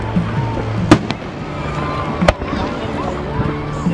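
Fourth of July fireworks show heard from a distance: a few sharp booms and crackles spread over several seconds, with people chatting and reacting nearby throughout.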